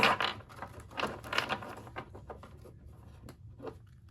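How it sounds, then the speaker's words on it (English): Soft papery riffling and light taps of tarot cards being shuffled, a few quick bursts in close succession, quiet and close with no talking. "We'll do a couple more shuffles."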